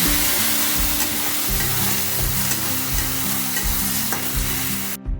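Pumpkin greens stir-fry with coriander, turmeric and ground ginger in a hot pan, a loud, close, continuous sizzle with a pulsing low hum and scraping stirs before a sudden stop at the end.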